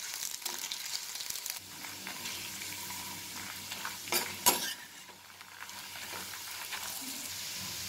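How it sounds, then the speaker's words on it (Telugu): Ginger and tamarind frying in oil for a ginger pickle, a quiet steady sizzle with spoon stirring and a couple of brief louder scraping bursts partway through, with no voices. "చింతపండును కూడా 1 నిమిషం ఇలాగే ఆయిల్లో మగ్గనిద్దాం."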